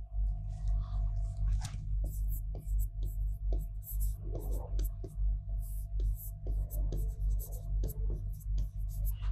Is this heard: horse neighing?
no